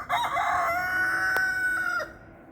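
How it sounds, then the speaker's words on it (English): A single rooster crows once, loud and close, a long drawn-out call lasting about two seconds before fading. "Now would be a great time to hear my rooster."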